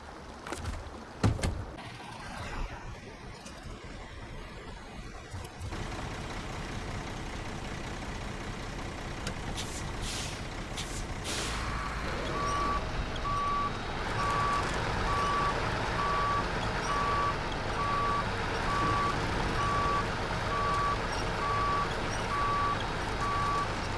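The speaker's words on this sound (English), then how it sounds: "I'm gonna have to move that other truck." A truck is moved, its engine rumbling steadily throughout; a sharp air-brake hiss releases partway through, followed by a fast, evenly repeating reversing beeper sounding loud and close over the idling drone until the end, with no talking.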